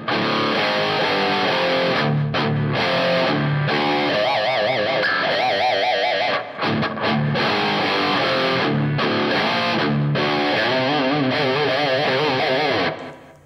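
A distorted electric guitar in drop D plays a riff slowly, mixing one-finger power chords with pinched harmonics and bent notes, loud and upfront with brief pauses between phrases.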